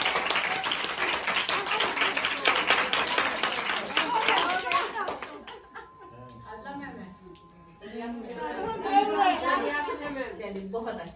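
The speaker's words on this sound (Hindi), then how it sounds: "तालियां।" A classroom of students gives a burst of clapping for their English teacher during a grammar lesson, fairly close and lively for several seconds before fading as a voice resumes speaking.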